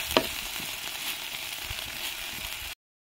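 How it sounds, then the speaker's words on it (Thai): Canned fish stir-fried with holy basil outdoors gives a steady close sizzle, with a sharp clatter near the start and a few soft stirring scrapes before it cuts to silence. "ปลากระป๋องผัดกะเพราปลากระป๋อง"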